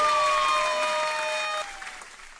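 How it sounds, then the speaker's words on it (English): Steady crowd clapping fills the space under a sustained sliding tone, probably a siren, that drifts downward before fading, with the applause thinning toward the end. "Hands are clapping"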